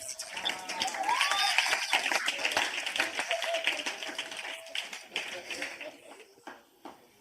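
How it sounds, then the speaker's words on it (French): A church congregation at a gathering in Accra, Ghana, claps in a dense burst of many hands over several seconds, mixed with voices and cheering that taper off toward the end. "Applaudis et sois enthousiaste."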